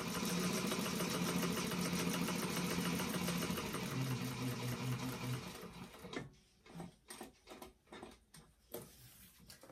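A sewing machine stitching a bag runs in a fast, steady whir for about six seconds, then slows into a series of short, separate bursts as the stitching stops and restarts.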